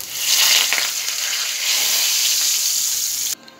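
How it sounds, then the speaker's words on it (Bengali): Bay leaf, dried chilli and whole cumin drop into hot mustard oil in a wok, giving a loud, close crackling sizzle that cuts off abruptly near the end. "এবার আমি ফোড়নে দেব তেজপাতা, শুকনো লঙ্কা আর গোটা জিরে।"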